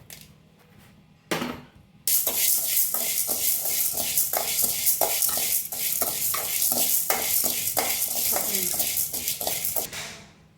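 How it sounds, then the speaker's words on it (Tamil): Chana dal being dry-roasted in a pan for idli podi, stirred with a steady run of scraping, rattling strokes and light crackle; loud and close, continuing for most of the stretch with no talk. "வாசனை வர அளவுக்கு வறுத்து எடுத்துக்கோங்க."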